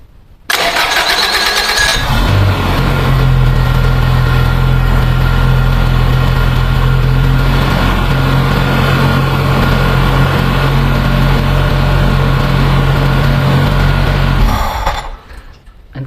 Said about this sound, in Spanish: vamos a proceder a encender el vehículo y vamos a observar cuánto está marcando con motor en relantí